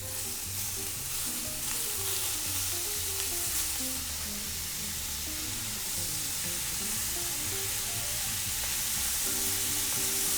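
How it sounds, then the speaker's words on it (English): Shrimp fry in hot oil in an iron skillet, producing a continuous, dense sizzle with steady crackling and no talk. "And we're gonna add our shrimp."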